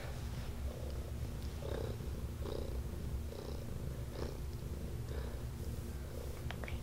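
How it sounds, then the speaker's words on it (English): A cuddly pet cat purrs steadily and softly up close, its low rhythmic rumble pulsing in regular breaths with no talking over it. "She's a very, very cuddly kitty, and she's always purring."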